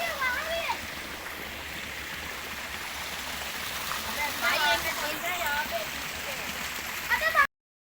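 Mountain stream rushing through hilly terrain in Khyber Pakhtunkhwa, a constant close wash of flowing water running under someone speaking throughout.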